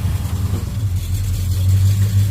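A 1957 Chevy Bel Air engine rumbling close by as it pulls away, a steady low throbbing growl that swells slightly toward the end, with no voices over it.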